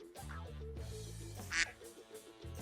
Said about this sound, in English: That is a quack.